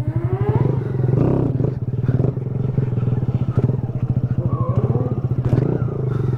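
Kawasaki Z125 motorcycle engine running close and loud throughout, a steady low throbbing idle with slight revving swells and some clatter, no speech over it.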